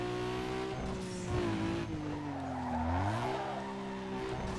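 A Nissan Skyline with its stock engine drifts in NFS Underground 2, giving a sustained engine drone with a wavering pitch under a loud, continuous tire squeal.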